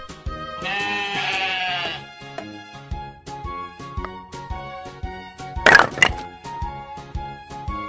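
A sheep bleats loudly in one wavering call over a plinky children's tune with a sharp crack near the end, no talking.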